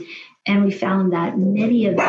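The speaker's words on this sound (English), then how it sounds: "sorry, that's my dog" A dog barks and yips indoors during a talk on migraine. The sounds are mixed under a person's steady speaking voice, close and fairly loud.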